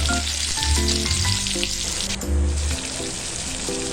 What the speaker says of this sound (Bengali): সাত আটটা রসুন দিয়ে ভালো করে নাড়াচাড়া করে একটা বড় সাইজের পেঁয়াজ কুচিয়ে দিয়ে দেব